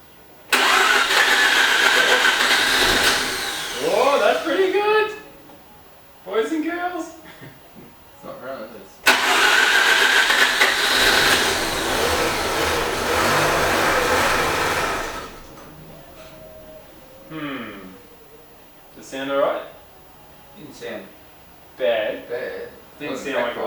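A freshly rebuilt Mazda 13B rotary engine in an RX-8 cranks and fires twice, each start a loud, sustained roar that settles into uneven running, with people talking close by in the quieter gaps.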